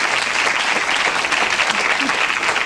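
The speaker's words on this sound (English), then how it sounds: "No, it's applause." A studio audience at a British comedy show applauds loudly and continuously, a dense, even wash of many hands clapping close and full throughout.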